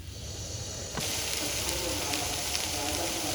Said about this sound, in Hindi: इसके साथ हम अपनी वेजिटेबल्स को अच्छे से सौते कर लेंगे तेज़ आंच के ऊपर